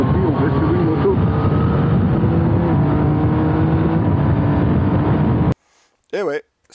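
A Yamaha Niken GT three-cylinder CP3 motorcycle engine, shared with the MT-09, droning loudly and steadily while riding, its pitch rising and falling with the throttle, then cutting off abruptly before a short burst of voice.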